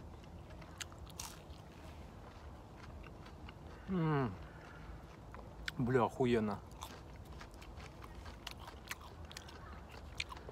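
Fast-food shrimp from the Vkusno i Tochka chain is bitten and chewed close to the mic, with faint crisp crunches and clicks scattered throughout and someone speaking briefly in the middle.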